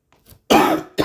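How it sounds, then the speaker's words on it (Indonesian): A speaker in the middle of an Indonesian-language talk on regional government rules coughs once, harsh and close, right after a faint throat clearing. "sorry batuk ya teman-teman sekalian"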